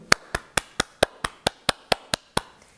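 Eleven sharp, evenly spaced hand claps ring out one after another at a steady brisk pace, close and loud, imitating heavy rain in a children's weather lesson.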